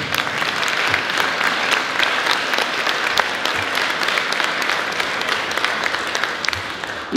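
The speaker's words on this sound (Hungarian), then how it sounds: "Az egyik Igyártó Bálint, az megérdemel egy tapsot." An audience in an exhibition hall at a folk-tradition exhibition applauds steadily for several seconds, a dense wash of many hands clapping at even loudness with no speech on top.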